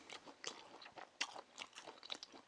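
Someone chews salty, budget pizza close to the microphone, giving quiet, rhythmic crunching and moist bites over a couple of seconds with no talk.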